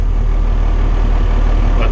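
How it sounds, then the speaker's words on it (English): John Deere tractor engine idling steadily up close, a loud, even low rumble with a faint mechanical pulse and no other sounds. "this is how you rev up and throttle down your motor to work with your cruise, and also when you're idling like this"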